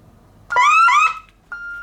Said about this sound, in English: As you can see, the system has gone to alarm.